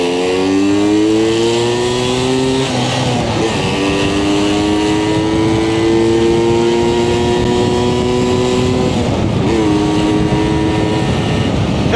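A Vespa Special 90 two-stroke scooter engine drones steadily while riding, with rising and falling pitch as it shifts gears, close and loud throughout with no talking.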